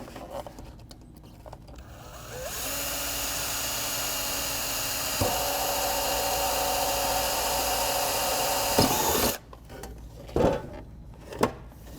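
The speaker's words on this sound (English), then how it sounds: "he's just going to drill through, probably right here is a good spot, right in the middle" A power drill whines steadily for several seconds, pitch shifting slightly as it bites through a metal gutter, then stops, followed by a few sharp clanks.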